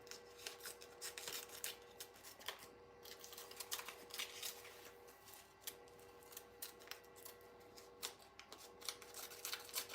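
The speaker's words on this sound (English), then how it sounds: "I cut it around, trim it real pretty." Scissors trim around an embroidered patch in a run of close, quiet, repeated snips and rubbing fabric sounds, steady and unaccompanied by speech.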